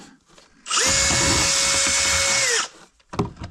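A power drill drives a screw into a countertop in a renovated 128-year-old log cabin. One loud, steady whine runs for about two seconds, then stops, and a few faint knocks follow.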